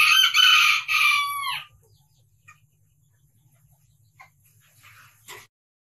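Brazilian chickens are heard nearby. A rooster crows loudly for the first second and a half, then scattered soft clucks follow over near silence.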